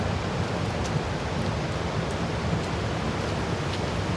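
River water rushes at Great Falls, New Jersey, a strong current forming a dense, steady broadband roar with no break or voices.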